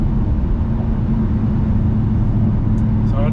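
Cabin drone of a Roushcharged supercharged Ford Mustang cruising at 70 mph in sixth gear, a loud steady low engine and road rumble with no change in pitch throughout.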